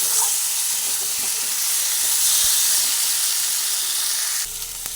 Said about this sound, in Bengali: আলুটাও ভালোভাবে মশলার সঙ্গে মিশিয়ে কষিয়ে নিচ্ছি